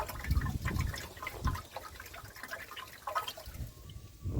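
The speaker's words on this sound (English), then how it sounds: "That back box is just full of water." Water sloshing and trickling inside the rear silencer box of a car exhaust packed with condensation, a faint, uneven gurgle with a few louder splashy surges, recorded close with no talk.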